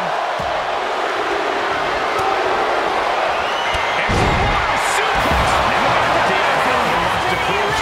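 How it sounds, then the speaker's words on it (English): A large arena crowd in a wrestling video game roars continuously in a dense wash of cheering, with a few heavy slams and thuds punching through, while a commentator talks over it during a Royal Rumble match. "Listen to this crowd"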